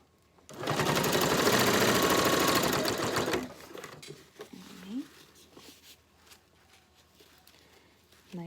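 A sewing machine stitches a straight seam in a fast, steady whir lasting about three seconds, then stops. Quieter handling noises and clicks follow, with a person talking intermittently.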